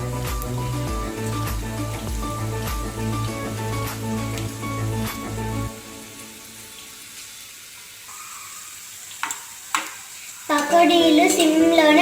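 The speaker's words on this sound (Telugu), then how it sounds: "పకోడీలు సిమ్లోనే బాగా వేగాలి." Onion pakodas frying in hot oil over a low flame, a soft steady sizzle with stirring clinks and a brief splash of running water near the end.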